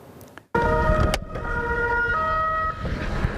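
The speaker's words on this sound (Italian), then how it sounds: "A sirene spiegate è arrivata in Campomarzio la pattuglia della polizia locale" A local police patrol car arrives in Campo Marzio with its siren blaring. The steady, loud two-tone wail sounds close over road and engine noise.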